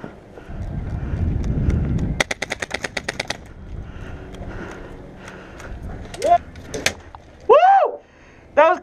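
Airsoft guns fire a rapid string of sharp shots at a jungle island kill house, followed by a few scattered pops, with excited voices shouting nearby.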